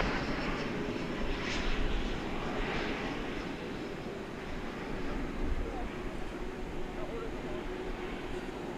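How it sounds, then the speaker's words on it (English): A Boeing 737 MAX 8 airliner arrives at Dallas Fort Worth airport at night, a steady broad engine roar holding throughout at moderate distance, swelling slightly around the middle and end. "We've got a MAX 8 coming in from El Paso"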